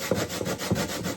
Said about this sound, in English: now that my potatoes are all washed, cut up into pieces that I can grate. Time to grate it the old time way.